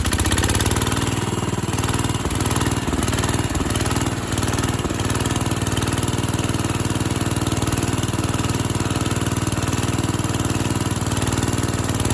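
A 1968 Case 155 tractor engine idles steadily, a loud, rough, rhythmic chugging that runs throughout without pause.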